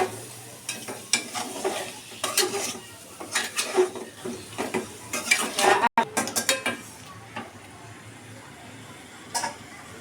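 Potatoes go into a hot pan and are stirred, a spoon scraping and clattering against the metal in repeated bursts over a steady sizzle, busy for several seconds and then settling to a quieter frying hiss.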